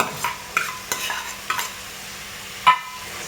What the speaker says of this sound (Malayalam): ഇതൊന്ന് നമുക്ക് പകുതി മൂപ്പായിട്ട് മൂപ്പിച്ചെടുക്കാം